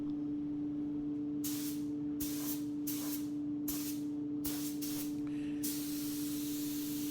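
A spray gun applies paint to a Jeep Cherokee in repeated short hissing bursts, roughly five or six passes, each about half a second to a second long, ending in one longer continuous spray. A steady low compressor hum runs underneath.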